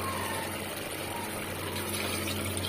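Water pours steadily into a pot holding washed mutton pieces, a continuous close rushing wash with a low hum underneath and no talking.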